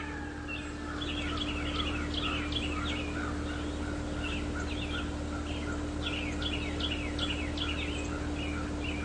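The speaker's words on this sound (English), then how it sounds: "Just listen to those birds. It must be springtime." Many birds chirp and trill outdoors in a steady springtime dawn chorus at sunrise, with a constant low hum underneath.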